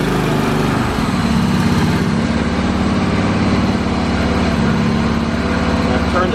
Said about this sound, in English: You hear Ed back there working on lawnmowers